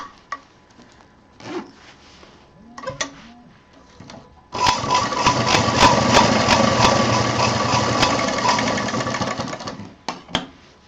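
Sewing machine stitching fabric for a handbag, starting with a few short bursts and handling noises, then a long steady whirring run of rapid needle strokes, close and loud, before stopping with brief clicks.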